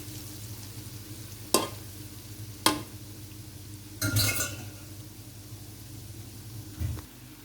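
Chin chin dough pieces fry in hot oil with a soft, continuous sizzle, broken by a few sharp clinks and scrapes as a spoon stirs them in the pot, with no voices.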